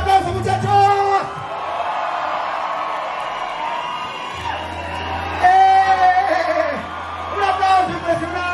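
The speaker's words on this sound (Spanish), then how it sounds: "¡Un aplauso impresionante!" A party crowd cheers, whoops and claps loudly in continuous waves, with shouting voices mixed through the noise.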